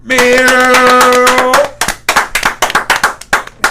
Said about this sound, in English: Jones clap just because he extra